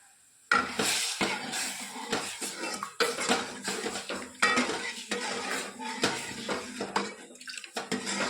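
Spice tempering of red chilli, turmeric and garam masala sizzles in a pan with lentils in a home kitchen. Close metallic clatter and spoon stirring run throughout over a moderate background sizzle.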